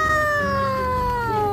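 A cat gives a long, drawn-out meow with a slowly falling pitch, loud and close, lasting the whole moment without any talking.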